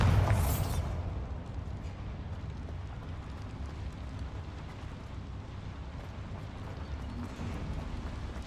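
A Bombarda blasting spell from the Hogwarts Legacy video game goes off with a sharp blast at the start, then a long low rumbling roar that fades only slightly and holds steady to the end.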